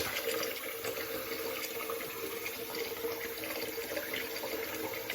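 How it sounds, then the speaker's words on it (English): Hot water runs steadily from a bathroom tap into a sink, a constant close splashing rush with no break and no voices. "Let's get some more hot water in here. Let's let that run for a second and get hot."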